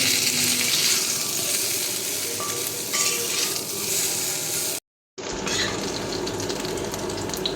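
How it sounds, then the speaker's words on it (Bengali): Drumstick and potato pieces fry in a pan, with a loud, steady, close sizzle and stirring that run through the clip. The sizzle breaks off for a moment and then resumes. "সজনা আলুটা আমি ভালো করে ভেজে নেব"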